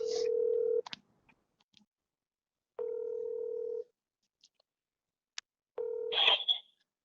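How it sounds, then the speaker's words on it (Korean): Phone call placed from a mobile phone, heard as three evenly spaced ringback tones, each about a second long with gaps between them, clear and close in a quiet room, with no talking. "잠깐만 내가 다른 핸드폰으로 전화할 테니까 너도 들어 그냥"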